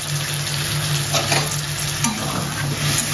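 Spice paste sautéing in oil in a pan for a Bengali fish curry, with pumpkin fried beforehand: a steady close sizzle and fry under repeated stirring scrapes, with no voice.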